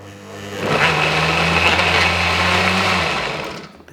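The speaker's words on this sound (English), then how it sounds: "this is the most expensive blender there literally is." A blender whirs steadily while trying to blend milk, a close, loud motor hum holding for about three seconds before spinning down and cutting out.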